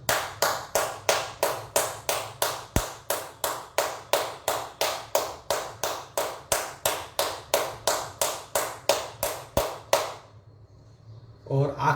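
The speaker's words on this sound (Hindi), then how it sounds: "ताली।" Crisp, close hand claps during a yoga exercise session repeat in a quick, even rhythm for about ten seconds, then stop, leaving near quiet.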